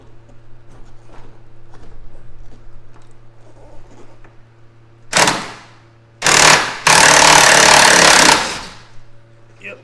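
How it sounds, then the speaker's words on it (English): An impact wrench loosens a nut on a Porsche Cayman 987.1 in a garage, firing three loud, close bursts, the last about two seconds long, after quiet shop background with faint talk. "I'm just going to get an impact."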